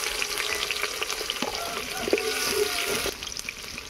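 Slit green chillies and chopped onion frying in hot mustard oil, heard as a close, steady sizzle with light stirring scrapes and a bright spit of oil partway through.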